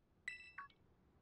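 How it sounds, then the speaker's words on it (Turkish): A pair of quick, faint electronic telephone beeps from Pokemon Scarlet & Violet, two short tones in quiet surroundings. "Telefon."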